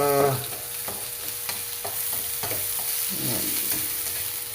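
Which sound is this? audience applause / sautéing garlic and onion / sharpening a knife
sautéing garlic and onion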